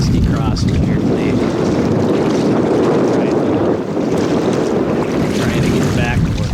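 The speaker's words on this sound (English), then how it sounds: "We are fighting a nasty crosswind here today." Strong crosswind roaring across a boat working through the channels of Muskrat Pass in Alaska, a continuous loud buffeting wind noise with water wash underneath, up close on the microphone throughout.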